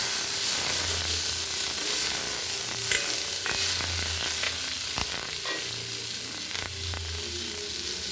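Mourala fish chochchori frying in mustard oil in a pan, a steady loud sizzle and hiss with occasional scrapes and taps of a spatula as the fish is turned, close by, no talking.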